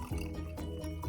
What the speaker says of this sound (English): measure out 1/4 cup of vinegar and add that into the jar.